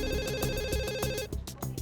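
A telephone rings in a hair salon with a bright electronic ringtone that repeats in a quick pulsing pattern, close and steady, then shifts to a choppier rhythm near the end.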